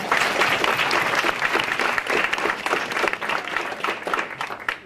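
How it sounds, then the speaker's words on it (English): Applause from the audience at a volunteer recognition dinner, a dense, steady clapping of many hands that fills the room and fades slightly at the end. "So help me in applauding."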